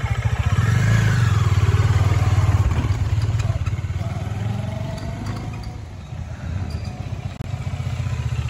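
A big motorcycle ridden by a teenager rumbles steadily up close with a deep, continuous engine drone and some clatter, its pitch easing and rising slightly as it moves along.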